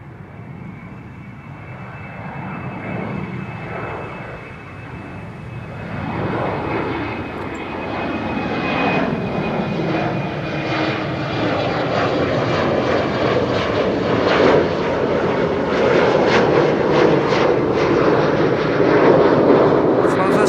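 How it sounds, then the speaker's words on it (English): A KLM Boeing 777-200 bound for Houston rolls onto the runway at Schiphol and powers up, its jet roar swelling steadily over about twenty seconds with a thin engine whine, heard from a distance. "now seemingly going onto the runway, is KLM flight 661, which will be going to Houston in Texas. That's 777-200."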